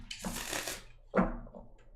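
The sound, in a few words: shuffling tarot cards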